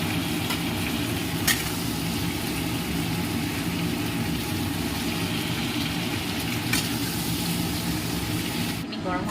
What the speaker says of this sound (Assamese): এতিয়া মাছখিনি 5 মিনিটমান ভজা হোৱাৰ পিছত মই কাঢ়ি ল'ম।